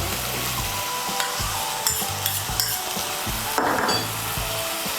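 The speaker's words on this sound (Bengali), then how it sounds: "মিশিয়ে নিয়ে এর মধ্যে দিয়ে দেব টমেটো বাটা।" Ground spices fry in a pan while tomato paste is stirred in, a loud close sizzle with rhythmic scraping and knocking strokes of a spoon and a brief hissing burst partway through.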